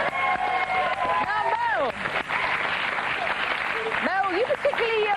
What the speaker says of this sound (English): Round of applause, Michael Stewart